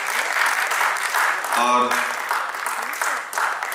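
Audience applause for theatre performers at a staging of Renu's Hindi play Rasapriya in Rohtas, steady clapping from a crowd throughout, with a voice speaking briefly over it partway through.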